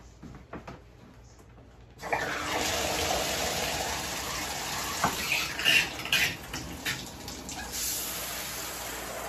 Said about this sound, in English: So let me climb in, turn the water on.